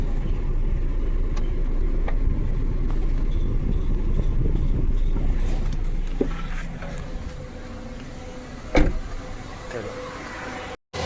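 A used Maruti Suzuki Swift Dzire ZXi idles with its engine running, a steady, close hum that eases slightly near the end, with a brief clunk just before it cuts off.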